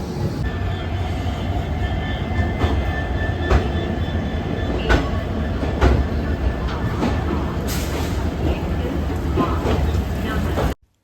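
A passenger train heading toward Guwahati rolls along the rails, a loud continuous rumble with periodic clicks and clatter from the wheels heard from inside the carriage, with faint voices in the background.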